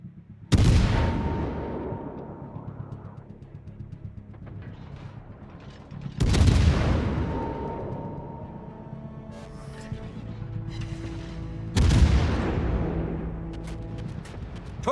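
Three heavy naval gun salvos from a Salem cruiser in World of Warships, each a deep booming blast rolling off into a long rumbling decay, spaced about six seconds apart.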